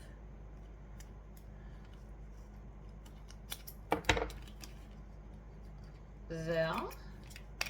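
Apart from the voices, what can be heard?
scissors trimming strap in half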